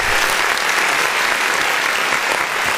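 A live show audience breaks into loud, sustained applause and cheering to welcome guest PB the Tattoo Man, a dense wash of clapping throughout.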